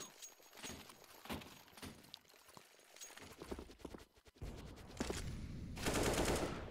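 Video game gunfire comes in scattered sharp cracks and short rapid bursts, fairly faint, with the shots growing denser and louder toward the end.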